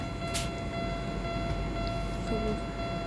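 Passing train with a steady low rumble and a few high tonal whines, heard up close as a continuous, even roar with no talk.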